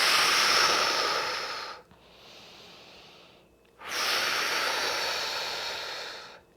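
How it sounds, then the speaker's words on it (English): Two forceful, breathy exhales during a core and glutes workout, each a loud sustained rush of air lasting about two seconds, separated by a softer pause, close to the microphone with no talking. "Exhale all your air out."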